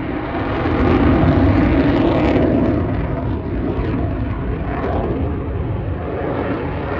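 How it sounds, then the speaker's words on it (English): Military jet passing overhead while dropping flares, a broad, rumbling roar that swells early and then lingers as a steady distant wash of engine noise. "they noticed a jet dropping flares above them"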